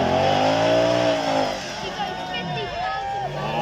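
A Lamborghini V10 supercar revs at a Beaulieu supercar demonstration run, its engine note rising and falling in sweeping harmonic swells, loud against crowd noise and a talking announcer.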